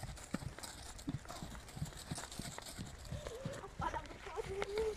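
Horse hooves clip-clop at a steady walking rhythm during a bareback riding lesson, close and fairly soft, with a rider and instructor talking over the footfalls.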